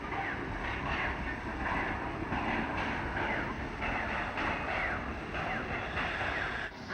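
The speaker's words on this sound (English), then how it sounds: "Coming down from Marysville, another cab forward arrives in town and crosses Lincoln Street." Cab forward steam locomotive rolling along the track into town, a steady rumble with rhythmic chuffing pulses and some wind noise, heard from nearby and without talk.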